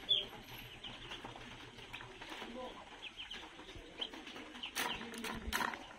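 Small ducklings peep faintly in a hatching setup, with soft, scattered chirps that grow busier toward the end, and a voice may be faintly present in the background.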